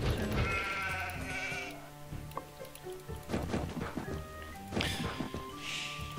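Sheep bleating in the Age of Empires II strategy game, several clear calls rising over busy game sounds with drips and clicks, with no talk.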